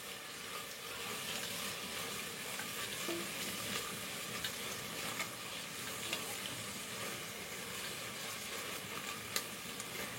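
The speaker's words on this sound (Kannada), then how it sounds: "ಈರುಳ್ಳಿ ಸ್ವಲ್ಪ ಗೋಲ್ಡನ್ ಕಲರ್ ಬರೋವರೆಗೂ ನಾವು ಫ್ರೈ ಮಾಡ್ತಾ ಬರಬೇಕು." Sliced onions frying steadily in hot oil until golden, a continuous dense sizzle with occasional stirring scrapes, close and even throughout with no voices.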